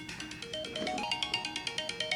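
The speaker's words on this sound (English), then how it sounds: "that's my alarm to wrap things up." A phone alarm rings alone, a repeating electronic melody that settles into a steady rhythmic pulse of bright tones.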